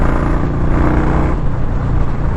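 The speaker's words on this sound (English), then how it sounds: "4th gear sounds good, rolls nice. I like that grumble when you get in it." Engine of a 2021 Indian Scout Bobber motorcycle grumbling steadily in fourth gear while riding, a continuous low rumble with road and wind noise, close and fairly loud.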